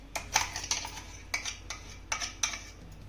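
A spoon scrapes ground leftover cooked rice out of a mixer jar into a pan on the stove, producing a few quiet clinks and scrapes of metal on metal in irregular bursts.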